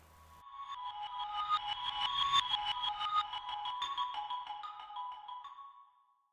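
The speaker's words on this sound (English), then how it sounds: "you can hear how the live sound emerges from the reverse version of the same thing" A reversed tape part swells in gradually, and a live instrument playing the same material emerges from it. The bright, bell-like sustained tones build, hold and then fade to silence, fairly soft and with no other sounds.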